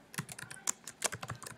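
A short, quick burst of close keystrokes on a computer keyboard, typed to log in to Nearpod, with no speech.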